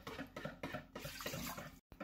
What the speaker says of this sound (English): Where you put 2 cups of water in the bottom of your Instant Pot bowl.